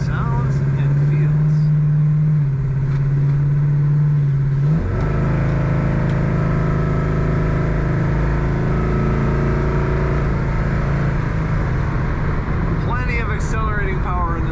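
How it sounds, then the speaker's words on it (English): A 1938 Chevrolet Master Deluxe coupe street rod accelerates at just over half throttle from inside the car. The engine hums steadily, then its pitch shifts and it pulls harder, with someone talking briefly near the end. "that was just a little over half throttle. I didn't even give it a lot, and it sounds good, accelerates very well"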